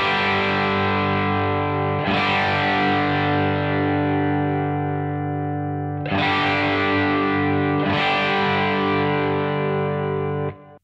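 Guitar tone through a Crazy Tube Circuits Hi Power overdrive pedal set to its 100 watt mode, played as three sustained, distorted chords struck at about 2, 6 and 8 seconds that ring loud and rich before cutting off.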